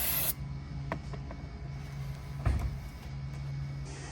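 A close, steady hiss of brake cleaner spraying onto a Kia Sorento rear brake rotor runs throughout, with a few brief clicks and knocks over a low background hum.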